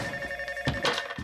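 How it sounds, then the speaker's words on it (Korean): A telephone bell rings in a film scene, a steady trilling tone running throughout with a few clattering bumps and rustles on top. "정말 시내가 집에 오자마자 전화벨을 울려요."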